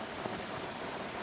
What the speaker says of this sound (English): It's kind of loud where you are. Are you out in this rain?